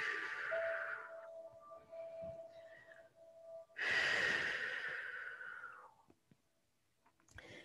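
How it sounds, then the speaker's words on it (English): Slow, steady breaths during a yoga hip-opening pose, two long exhales with an airy, breathy rush, close and fairly quiet with a soft hum beneath, then near silence with a faint stir at the end. "just keep the breath flowing"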